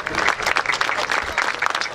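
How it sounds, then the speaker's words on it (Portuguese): Thin, scattered applause from a small audience at a world dance gala, a few hands clapping unevenly for two seconds with no voices over it. "É uma salva de palmas muito fraquinha."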